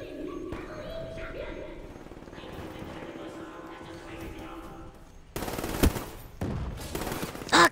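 Gunfire in Black Ops III starts as a muffled rumble of game noise, then turns into a loud burst of rapid automatic shots with sharp cracks in the final seconds.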